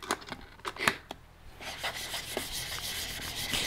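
A fairly wide woodworking blade is rubbed flat on a Sharpen lapping plate to remove its burr, giving soft close scraping strokes, a few sharp ticks at first, then a continuous gritty rub.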